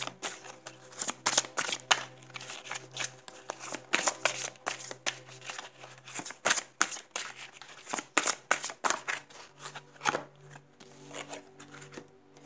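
A deck of angel oracle cards is shuffled close up in quick, irregular bursts of riffling and slapping, with short pauses between the runs.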